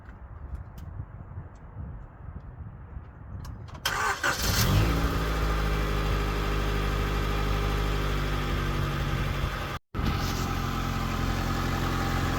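An Alfa Romeo Spider, running on jump leads, cranks briefly and catches, then settles into a steady, loud idle heard close up after a quiet stretch of rustling, with a momentary dropout near the end.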